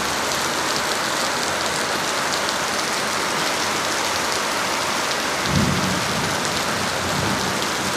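Heavy rain falls outside a porch in a constant dense wash, and a single low rumble of thunder comes late in the clip.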